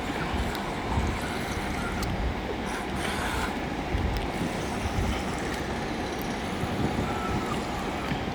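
A toy-grade RC boat costing about 2000 rupees runs on open water, giving a continuous churning, splashing rush mixed with wind noise, steady and fairly loud throughout.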